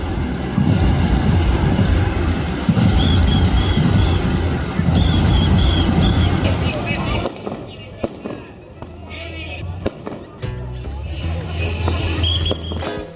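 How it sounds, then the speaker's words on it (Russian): Electric suburban commuter train, the last of the day, riding toward the capital of Bulgaria, rumbling loud and steady with bursts of festive fireworks popping around it and people talking nearby. "мы сели в последнюю на сегодня электричку, шедшую в столицу"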